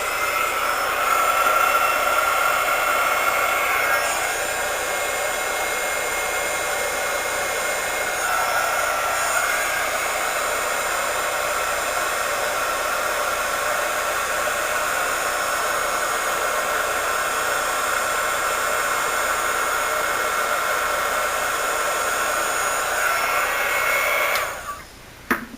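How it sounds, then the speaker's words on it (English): A craft heat tool blows in a steady, loud whirring roar, heat-setting a handmade card, running continuously before cutting off near the end. "So I'm just going to heat up my heat tool for a few seconds and then heat set this."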